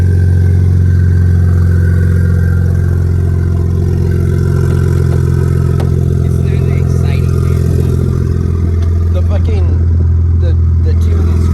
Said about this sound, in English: This thing sounds like a fucking Cummins diesel or something.